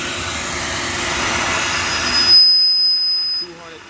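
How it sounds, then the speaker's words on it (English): A flow bench tests Stage 2 ported TFS small-block Ford 170 cylinder heads, giving a loud, steady rushing roar of air that cuts off abruptly partway through, followed by a quieter high whine. "we're going to crank up the flow bench"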